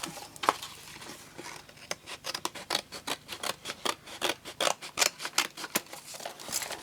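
Quick, crisp snips of scissors cutting paper, close and fairly quiet, in an irregular run of many short cuts.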